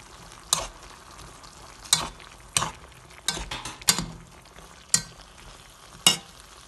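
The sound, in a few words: stirring chicken curry in a pan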